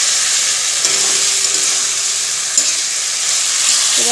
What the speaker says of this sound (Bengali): এবার এই কড়াইতে মশলা কষানোর সাথে সাথে ইঁচড়টাকে দিয়ে দেবো।